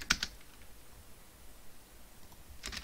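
Short bursts of typing on a computer keyboard, a quick cluster of clicks at the start and another at the end with a quiet pause between, nearby and without speech.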